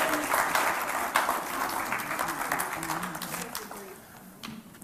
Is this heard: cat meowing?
no